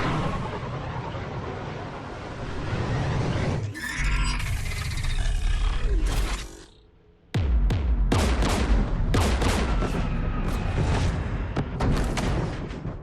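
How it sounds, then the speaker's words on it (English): Heavy video game combat audio on Rannoch in a Mass Effect-style battle with Geth anti-aircraft guns, a dense roaring wall of gunfire and engine noise that dips briefly, then resumes with sharp repeated bursts. "We're taking fire."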